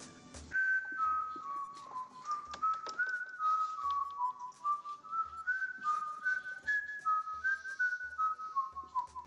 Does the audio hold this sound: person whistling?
yes